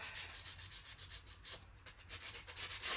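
A surface being roughed up by hand with a waxed plain paper towel, a soft rhythmic rubbing swish repeating in short strokes at close range, quiet and alone.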